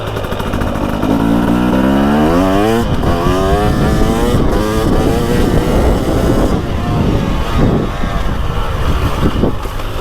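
A 2024 Beta 300 Race Edition two-stroke dirt bike engine revs hard and close, rising quickly in pitch with sharp, snappy throttle blips and a raspy, crackling exhaust that stays loud throughout.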